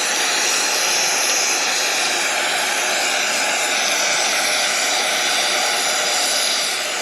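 An oxy-fuel cutting torch burns with a loud, steady roaring hiss that holds constant throughout without pause, close to the listener and with no voices.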